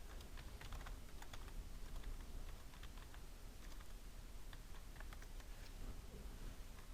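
Quick, uneven keystrokes on a computer keyboard tap along steadily, close by and fairly quiet, with no talking.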